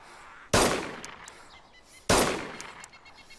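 Two sharp, loud gunshots from the game DayZ ring out about a second and a half apart, each with a quick decaying tail, with a faint game ambience in between.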